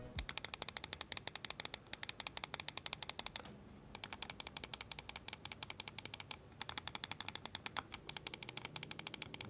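Rapid, crisp ratcheting clicks from the rubber scroll wheel of an Xtrfy M8 Wireless mouse spinning, in quick bursts separated by two brief pauses, close and fairly quiet.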